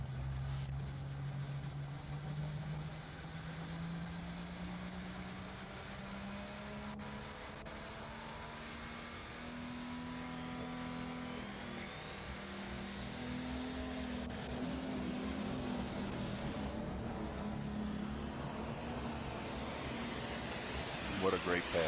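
A pulling truck's engine at an NTPA truck and tractor pull in Bowling Green, 2024, climbing steadily in revs over a long pass, loud and continuous, with a commentator talking over it.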